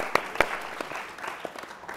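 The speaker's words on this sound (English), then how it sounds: "let's give him a round of applause" Audience applause for a speaker at a talk on marijuana legalization in New Jersey: a short burst of scattered clapping with a few sharp, close hand claps standing out at the start, fairly light and brief.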